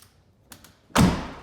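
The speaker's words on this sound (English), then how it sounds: "if either door is open, they will deploy" Powered Rock Slide Engineering step sliders on a 2020 Jeep Wrangler JL Unlimited Rubicon deploy. A few faint taps come first, then a solid close thunk gives way to a sustained mechanical rush as the steps extend.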